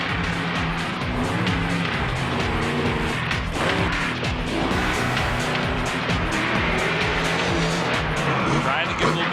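Monster truck at a Monster Jam event pulling a wheelie, its engine roaring loudly and continuously with tire noise, under steady excited commentary.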